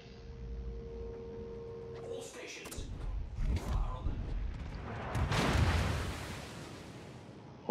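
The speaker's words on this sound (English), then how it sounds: "That's those big Vermont guns." Heavy naval guns of the battleship Vermont in a naval combat video game, with deep booming blasts and rumbling impacts building through the middle and peaking near the end, under game background noise.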